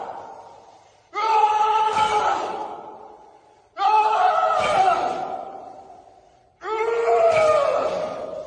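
During a leg day workout, a man lets out three loud, long, strained groans, each swelling and slowly fading, with short silent gaps between them.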